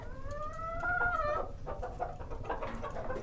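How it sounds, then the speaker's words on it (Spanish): Chickens clucking close by, a drawn-out rising call followed by a rapid run of short clucks, heard over a low background rumble. "Las gallinas picoteaban las botas de Cair"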